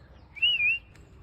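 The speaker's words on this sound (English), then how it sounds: "These parrots are laughing, shouting." A caged parrot gives a single clear, rising-and-falling whistle call, short and fairly close, over faint low background rumble.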